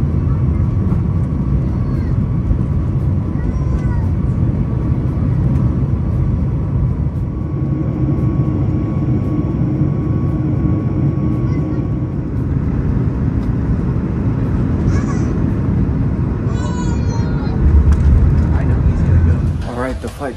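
Steady, loud broadband roar of an airplane cabin with deep engine rumble, a constant drone filling the whole clip with faint sounds in the background.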